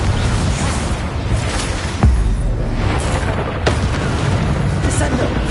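Confringo spell explosions in a Harry Potter video game on PS4 land as two deep booms amid a dense, noisy game mix, with a shouting voice mixed in.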